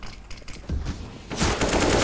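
Bursts of automatic gunfire sound in the battle royale video game PUBG, starting with scattered shots and building into a loud, dense volley in the second half.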